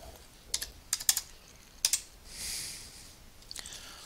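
Computer keys are pressed in a few quick clacks, with a short rustle between taps, close and clear against a quiet room.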